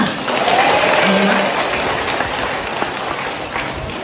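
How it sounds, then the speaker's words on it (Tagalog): Loud, steady crowd applause for a mayor at an outdoor relief distribution event in Abra de Ilog, Occidental Mindoro, filling the whole clip with dense clapping and a few faint voices underneath. "bigyan natin ng isang malakas na palakpak ang masipag ninyong Mayora!"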